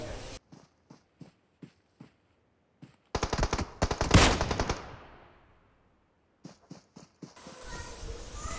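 Kar98 bolt-action rifle fire in a competitive battle royale match: sharp isolated shots ring out in an irregular rhythm, then a dense burst of loud gunfire swells and fades before more single cracks return.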